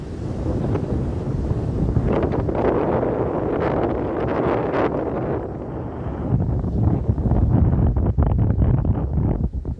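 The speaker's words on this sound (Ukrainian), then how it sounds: "Ох і вітер, та ти що," Strong wind buffets the microphone in a continuous roaring rush, loud and gusty throughout with no voices.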